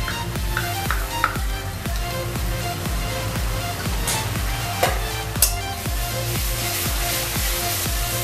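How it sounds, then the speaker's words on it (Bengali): Garlic and green chili paste sizzles loudly in a hot pan, with steady, rhythmic scraping strokes as it is stirred throughout. "এখন আমি দেবো এখানে রসুন আর কাঁচা লঙ্কা বাটা, প্রায় 2 চামচ।"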